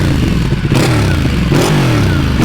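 Ducati Panigale 1199 exhaust revving loud and close, a deep bassy engine note climbing and falling in repeated rev sweeps with mechanical clatter underneath.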